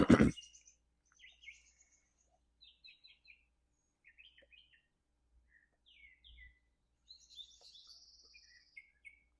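Small birds chirp and tweet in short, scattered bursts at bird feeders against a quiet background, with one sharp knock at the start.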